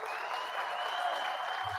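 Applause from an audience at a speech calling for a Gaza ceasefire, a dense steady wash of clapping held at an even level throughout, with no voices heard over it.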